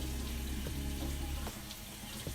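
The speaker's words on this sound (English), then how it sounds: "And then we're going to go ahead and rinse." Water runs steadily from a bathroom tap while hands are rinsed under it, a close, continuous splashing stream during a hand soap test.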